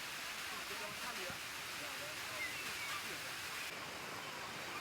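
A waterfall in Huta Barat village, North Sumatra, gives a steady, dense roar of rushing water that holds at an even loudness throughout, heard close and without pause.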